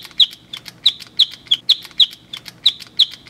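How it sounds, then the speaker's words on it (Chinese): A novelty Harry Potter-style pen gives off an electronic bird-chirp call, about nine short, bright tweets in quick rhythmic succession, close and clear with no talking. "它发出鸟叫声呢。"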